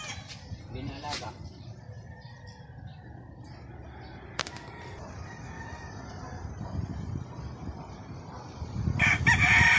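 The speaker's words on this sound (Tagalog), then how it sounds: "Ang daming manok." Fighting roosters crow repeatedly at a rural Filipino yard, loud calls rising over a bed of clucking and farm noise while people talk nearby.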